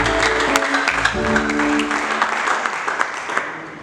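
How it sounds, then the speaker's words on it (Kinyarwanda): Enthusiastic applause from a church congregation fills the room, a steady burst of clapping that carries on throughout and slowly eases off toward the end. "Twakomeye Imana amashyi."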